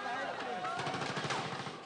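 Gunfire exchanged at the Gaza border, with Hamas fighters in a crowd returning fire: dense bursts of automatic shots crackle under voices.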